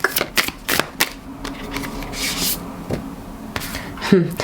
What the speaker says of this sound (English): Okay, let's get one more card from this deck.